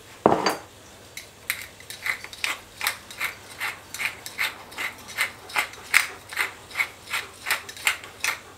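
Chicken meatball mixture with salt, pepper and egg is mixed, giving steady rhythmic clicking and scraping strokes, roughly two per second, close and fairly loud, with no talking.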